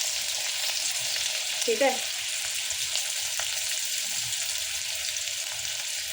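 Onion, garlic and curry leaves sizzle steadily in hot oil in a pan, a continuous close hiss with a brief spoon clink, and a short spoken remark.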